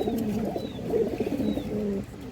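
Pigeons cooing in soft, low repeated calls, fairly near and faint, with a few thin higher chirps mixed in.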